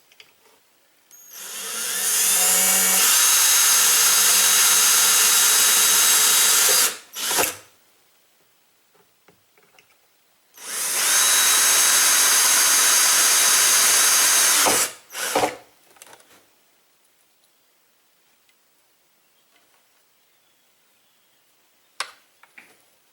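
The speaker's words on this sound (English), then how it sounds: "I'm going to go and pre-drill all my holes" A power drill pre-drilling holes for a boat speaker install whirs loudly in two sustained bursts of several seconds each, separated by a quiet pause, with brief clicks and handling noises after each run.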